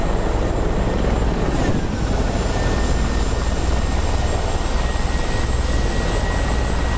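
Helicopter engines and rotors in the flight game DCS World during a dogfight competition make a loud, constant drone with a steady high whine above it.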